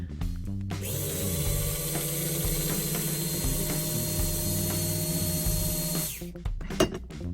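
An AFX slot car motor whirs at a steady high pitch as the car's tires spin against a dyno, holding for several seconds before spinning down, with small mechanical clicks around it.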